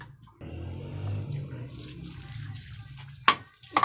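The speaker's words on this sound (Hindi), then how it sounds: "इसको दे दिया गाइस पानी" Water pours from a tap to give animals a drink, a steady splashing flow for a few seconds that stops, followed by a couple of sharp knocks.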